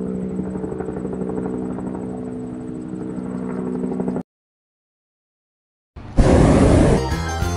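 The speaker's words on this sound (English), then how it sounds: "helicopter" A helicopter's rotor gives a steady, loud, whirring drone for about four seconds, then cuts to silence before a different harsh burst of sound.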